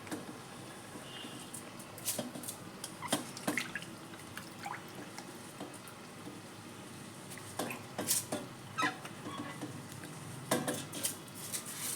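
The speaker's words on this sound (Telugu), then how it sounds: "తర్వాత నీళ్లు పోసుకోవాలి." Water poured into a pot of rice while making chicken biryani, heard as soft drips and splashes with a few light clinks of a metal pot or utensil, fairly quiet and close, with no talking.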